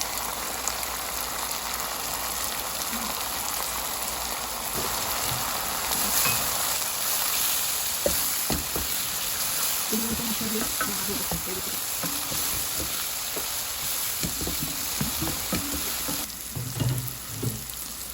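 Onions sauté in a pan for a fish curry made with orange peel, giving a continuous crackling sizzle with occasional stirring scrapes and bumps, while a voice talks intermittently.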